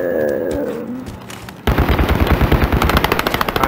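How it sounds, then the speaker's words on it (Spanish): Rapid automatic gunfire in the video game Call of Duty: Warzone: after a quieter stretch, loud bursts of machine-gun shots erupt and continue in a fast, steady rattle. "Ah, se están disparando ya"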